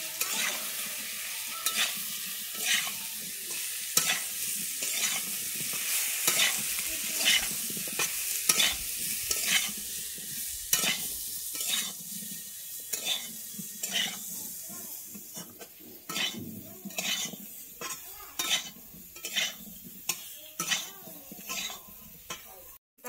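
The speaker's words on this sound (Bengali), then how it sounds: "আমি আলু আর ওলটাকে এবার একটু ভেজে নিচ্ছি।" Potato pieces and boiled elephant foot yam fry in oil in a pan, a steady sizzle broken by repeated scraping stirs at an irregular rhythm, close and clear throughout.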